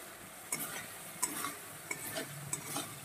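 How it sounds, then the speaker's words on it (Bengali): Ground coriander, cumin, turmeric, salt and Kashmiri chilli powder sautéed in oil in a pan for a boal fish curry, with four sharp spatula scrapes over a soft, steady sizzle. "তো এই পর্যায়ে এবার ভালো করে কষিয়ে নেব"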